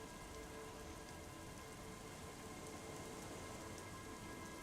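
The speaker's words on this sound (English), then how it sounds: "It's getting late, and it's raining." Steady rain falls in a dense, even hiss, soft and continuous throughout with no voices.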